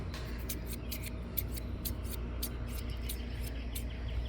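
Garden scissors click and snip in a quick, irregular series of sharp metallic ticks, close by, over a steady low background noise.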